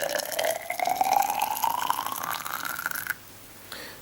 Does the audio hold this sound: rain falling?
no